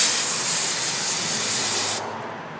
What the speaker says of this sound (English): you set your air compressor hose too high and get it too close, you can blow holes through your filter